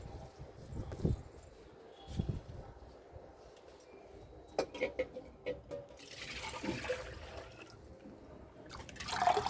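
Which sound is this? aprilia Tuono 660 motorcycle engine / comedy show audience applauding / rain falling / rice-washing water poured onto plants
rice-washing water poured onto plants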